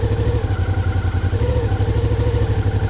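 Motorcycle engine raising its own revs with no throttle input from an Easy Rev Assist system, a steady mid-pitched running note with a rapid pulsing beat, close by and alone.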